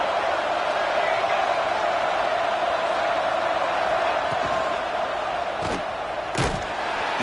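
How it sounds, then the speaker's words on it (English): Home crowd roaring at a college football video game, a dense, steady stadium wash of noise with a couple of short thumps near the end. "this home crowd is fired up and ready to make a difference"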